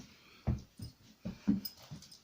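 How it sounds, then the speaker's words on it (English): A dog whimpers and whines in short bursts while waiting for a treat, several close, soft, uneven cries separated by brief pauses. "the dog's sort of anticipating treat"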